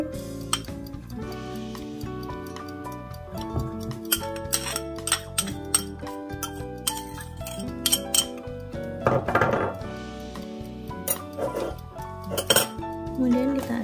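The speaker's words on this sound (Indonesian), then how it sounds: "Kemudian kita aduk aja dengan tangan, atau boleh dengan garpu, atau dengan pastry cutter." Karipap pastry dough is mixed with softened shortening in a bowl, giving steady clinks and scrapes of utensils against the dish under continuous background music.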